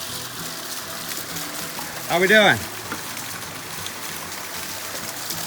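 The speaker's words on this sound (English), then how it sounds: "I'm almost at the top of the waterfall." Rushing water from a waterfall flows in a steady broadband hiss throughout, with someone briefly speaking partway through over the continuous wash, on a hiking trail near the top of the falls.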